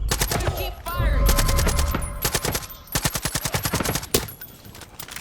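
Rapid gunfire in Far Cry 5: sustained bursts of automatic shots crackling close and loud, with a short pause and a heavier blast near the end.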